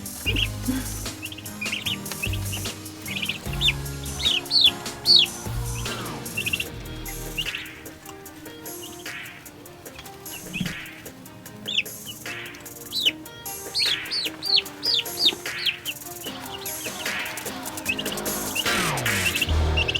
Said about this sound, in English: So I'm going to let Lori give a little loving to the turkeys, but they're doing really good here after a few days on the farm